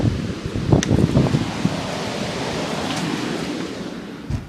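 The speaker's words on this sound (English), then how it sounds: "as you can see, it's absurdly windy." Strong storm wind roars steadily outdoors as a broad, rushing hiss that buffets the microphone, with a few louder gust thumps and rustles near the start and end.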